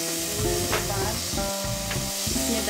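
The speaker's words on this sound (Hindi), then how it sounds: "ये रहा टमाटर, थोड़ा भूनना है" Tomatoes being fried in a pan, a continuous steady sizzle and hiss with a couple of faint soft clicks, evenly loud throughout without speech.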